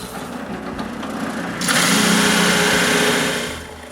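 A power sander smooths the interior of a wooden mold, starting as a low whir and then jumping to a loud, steady high-pitched grinding hiss that fades slightly at the end.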